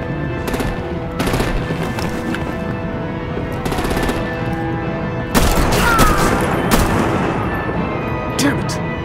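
Heavy artillery and machine-gun fire aimed at vehicles in Batman: The Enemy Within, coming in several loud bursts with a bigger blast around five seconds, under ongoing talk.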